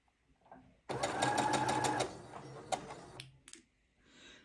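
A sewing machine hems a dress edge in a short, close, steady run of stitching, then slows and stops, followed by faint handling sounds.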